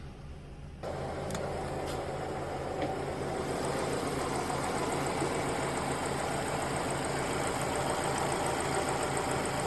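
Engine of a cheap used city car with a stored sensor fault and suspect timing, idling with a steady rough mechanical drone and light ticking, close and continuous.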